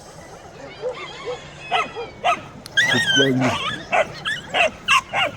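A dog barks repeatedly in short, sharp yaps mixed with whiny yelps, close by, while a person speaks briefly.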